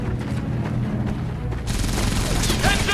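An MG42 machine gun in the video game Medal of Honor fires a dense, continuous burst that swells midway and stays loud, with battle noise and voices underneath.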